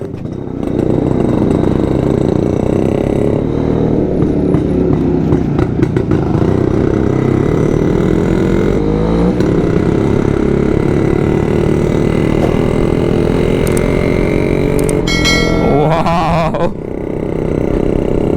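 A Yezdi Roadking motorcycle engine sets off on a group summer ride, its loud, steady, close throbbing run holding for most of the clip and easing off near the end, with no talking.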